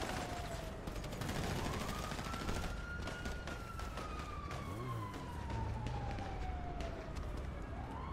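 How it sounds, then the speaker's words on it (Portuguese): Video game gunfire crackles in rapid bursts of shots, heard fairly faint beneath a loud wailing police-style siren that sweeps up and down across the scene. "Estão atirando a bala."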